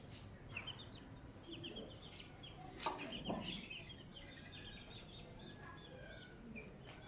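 Hens cluck softly and intermittently inside a cage used for brooding hens, in a rooftop animal enclosure on a third floor, with a few sharper bird calls over steady background noise.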